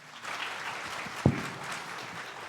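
A church congregation clapping steadily at a moderate distance during a Sunday service, a dense wash of applause with one sharper knock partway through.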